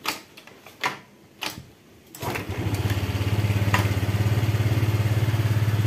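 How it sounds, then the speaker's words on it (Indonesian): A Honda Vario 125 FI scooter engine starts after a few clicks and taps, then settles into a steady, close idle putter that runs evenly to the end. "Ini kalau di setel, di selah, hidup ini."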